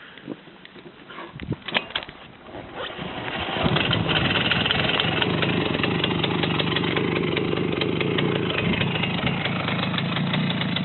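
A Romet motorcycle engine idles with a steady, slightly knocking rumble, quieter and uneven at first before settling into a constant, close hum.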